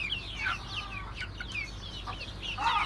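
Young Türken and Ameraucana chickens cluck and chirp in short, scattered calls, fairly faint over a low background hum, with no voices.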